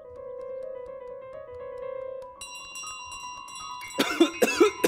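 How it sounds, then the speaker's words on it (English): In a cartoonish game with a goose, sustained bell-like chime tones ring first, then a burst of several short, loud coughs closes the moment, with no talk. "Oh, the bell is making me cough."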